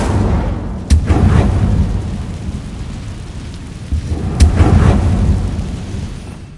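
Incendio fire spell cast in Hogwarts Legacy on PS4, a rumbling fiery roar with two sharp cracks, loud and rolling like thunder over steady noise, no talk.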